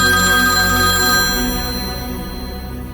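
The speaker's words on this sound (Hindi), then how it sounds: "विपुल का फोन है।" A phone ringtone chimes loudly and steadily from close by in a Hindi horror drama, then fades over the final second with no talk.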